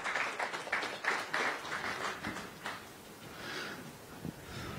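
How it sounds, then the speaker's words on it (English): An audience at a credit card launch event applauds with dense, close clapping that is strongest at first and then thins out and fades toward the end. "Let's give it a big round of applause."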